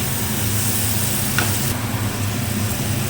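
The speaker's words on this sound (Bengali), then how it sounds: "সেই আলুগুলো দিয়ে দেওয়া হলো এই মশলার মধ্যে।" Potatoes fry in a hot spice masala in a pan, a continuous close sizzle with a brief stirring scrape midway and no speech.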